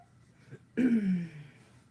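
A cat indoors lets out a single short meow that falls in pitch, fairly close and clear against a quiet room.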